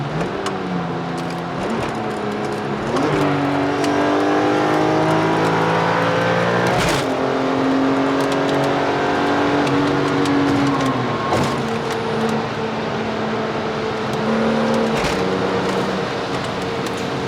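A BMW E46 M3 with an SMG transmission accelerates hard on a run with traction control off, its engine note climbing through several rising sweeps with quick shift breaks between them, loud and steady for the whole stretch, with no talking.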